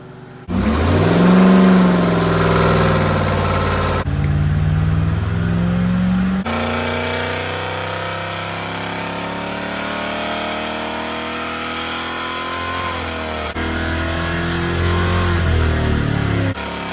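A Rover P6 3500 V8 restomod roars at full throttle on a dyno, a loud sustained howl with climbing engine tones held under load, cutting sharply between stages and ending abruptly.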